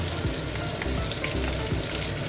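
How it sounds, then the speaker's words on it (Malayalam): Kerala-style fish frying in a pan, a loud, close, constant sizzle and spatter of hot oil with a few low bumps as the pieces shift. "എല്ലാ സൈഡും ഫ്രൈ ആകും."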